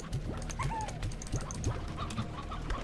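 Regular hens in the video game Slime Rancher give short, repeated clucks in a steady, close chorus over a low background hum.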